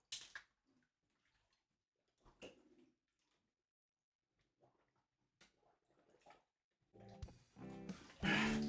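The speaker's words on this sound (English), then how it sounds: "I've got to drink water while underwater" Someone submerged in a bathtub drinks water, mostly quiet at first with small drips and sloshes, then a louder burst of gurgling, bubbling and splashing close by near the end.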